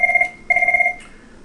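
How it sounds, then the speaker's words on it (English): A telephone rings alone in a quiet room, two electronic trilling bursts with a short gap between them, fairly loud and close. "sorry about that phone ringing"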